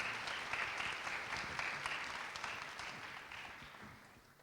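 An audience at a high school event claps after a student's speech, a dense round of applause that is strong at first and slowly fades.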